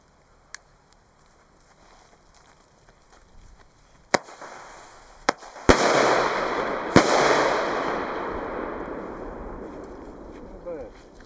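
Several sharp bangs from 20 mm single-shot firework cakes go off one after another, the last ones followed by a long crackling, hissing burst that fades slowly.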